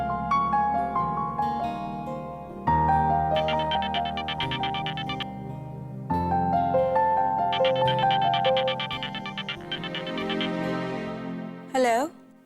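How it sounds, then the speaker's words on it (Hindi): A mobile phone ringtone plays as a repeating melodic tune across the whole stretch at steady volume, close by, with a brief sliding chirp near the end and no talk over it. "ये इसका फोन रिंग कर रहा है या मेरा दिल धड़क रहा है?"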